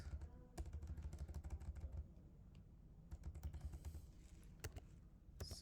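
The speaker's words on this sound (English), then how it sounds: "So I'll go to Google and let's type this question" A search query typed on a computer keyboard, rapid close clicks of keystrokes in an uneven rhythm, with a short pause before another quick run of keys.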